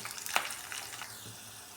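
Pulihora gravy simmering and being stirred in a pan, a steady soft sizzle with a few clinks and scrapes of the spoon near the start.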